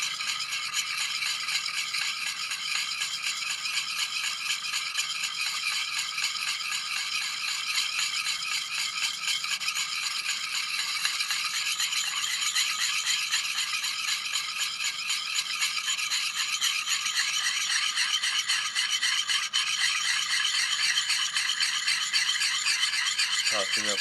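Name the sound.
polishing axe bevel while sharpening in the field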